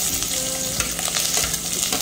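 Onions tipped into hot oil in a pan for Filipino chicken in tomatoes hiss and crackle into a steady close fry, with occasional spoon scrapes and clatter.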